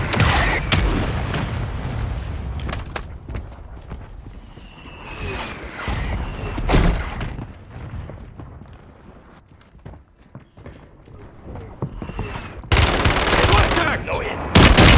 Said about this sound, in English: Requesting ordnance. Position marked. Cover your mark. Mortar strike inbound.